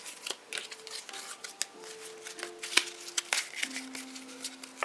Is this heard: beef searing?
no